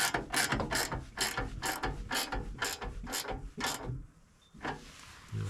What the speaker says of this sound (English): we're going to crank this one down.